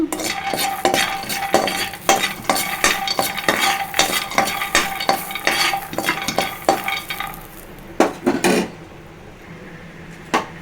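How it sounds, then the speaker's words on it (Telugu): A handful of peanuts fries in a pan, with a soft sizzle under repeated scraping and clinking of a spoon stirring against the metal, the strokes coming in a quick uneven rhythm before easing off near the end. "పల్లి గింజలు ఫ్రై అన్నీ చేసేస్తున్నాను"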